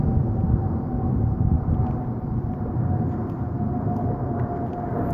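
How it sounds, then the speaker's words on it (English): An airplane passes close by near an airport, a steady broadband roar with a low hum that holds loud and constant throughout, with no talking over it. "Plane!"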